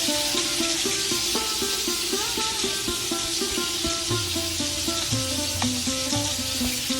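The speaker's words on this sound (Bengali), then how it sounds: "আর উল্টিয়ে পাশে মাছটা লাল লাল করে ভেজে নেব অন্য পাশে" Rohu fish pieces fry in hot oil in a pan, giving a dense, steady crackling sizzle that stays loud and close the whole time, with faint tonal background sounds beneath.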